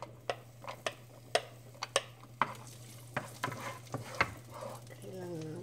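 Chicken and garlic frying in a pan, a soft sizzle under sharp, irregular scrapes and taps of a utensil stirring, with a steady low hum behind.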